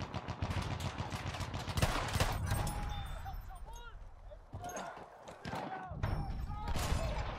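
Shotgun fire in Battlefield 1 on the Argonne forest map, a dense barrage of booming blasts and distant gunfire across a busy battlefield, with a voice talking over the shooting.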